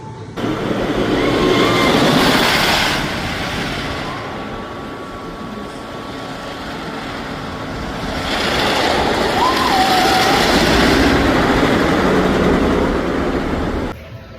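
Zambezi Zinger wooden roller coaster at Worlds of Fun, a loud, continuous roaring rattle of the train on the track that swells, dips in the middle and then surges again.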